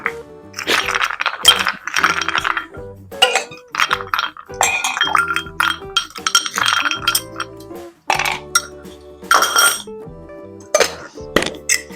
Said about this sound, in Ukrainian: Додаємо льод.